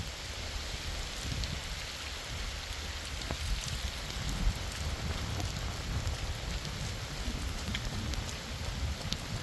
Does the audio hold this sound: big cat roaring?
no